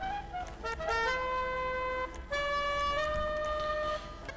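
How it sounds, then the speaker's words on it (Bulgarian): A musical car horn in GTA 5 plays a short, bright melody of clear sustained tones, pausing briefly before a second phrase follows, loud and alone. "Нека сложим една музикална бибитка, да сме музикални."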